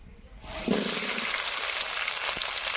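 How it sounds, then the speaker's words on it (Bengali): A sudden loud hiss as okra hits hot mustard oil about half a second in, then holds as a steady broadband sizzle that continues to the end. "তেল গরম হয়ে গেছে এবার ভেন্ডিগুলোকে ভেজে নেবো"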